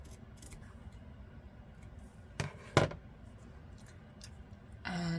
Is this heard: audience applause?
no